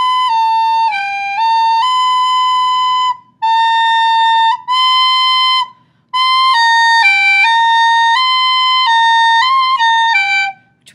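A recorder played without tonguing, the notes of "Merrily We Roll Along" sliding into each other in a smeared, unclear line. The tone is loud and close with only short breaks for breath.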